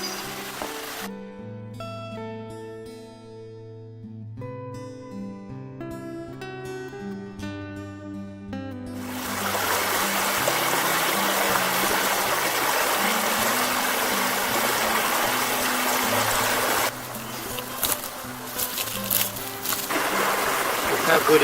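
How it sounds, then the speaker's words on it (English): A small creek bubbles and flows close by, a steady rushing wash that begins partway through after a stretch of music and carries on loudly to the end. "There's a beautiful little creek, you might hear it bubbling in the background,"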